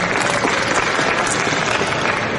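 A seminar audience bursts into brief, dense clapping to vote, a steady wash of applause from many hands lasting a couple of seconds.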